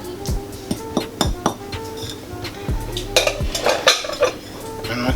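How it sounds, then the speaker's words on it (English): A whisk works cornstarch into a fish pie sauce in a pot, with rapid rhythmic clinks and scrapes of metal against the pan, close and fairly loud, with no talking. "Just going to whisk this in."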